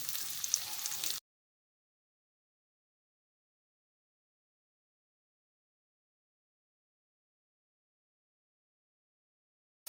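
Potatoes frying and browning in a pan for an egg burger give a brief burst of close sizzling for about a second, then everything falls silent.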